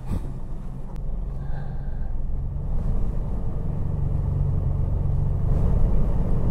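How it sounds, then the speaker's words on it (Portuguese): A car reverses out of a parking spot, its engine a steady low rumble that is close and fairly loud, swelling gradually with no talk over it. "Ela precisa fazer uma marcha ré para sair."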